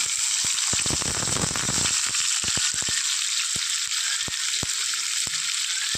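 Garlic, ginger, green chili and curry leaves sauté in oil for a dried prawn mango pickle, making a constant hissing sizzle with sharp intermittent clicks and taps of a spoon against the pan.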